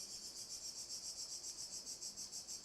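Steady, pulsing high-pitched buzzing of cicadas, a continuous insect drone with a regular rhythmic throb, fairly faint and with no voices.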